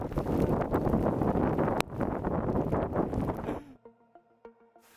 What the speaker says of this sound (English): Right, it got really wet and windy.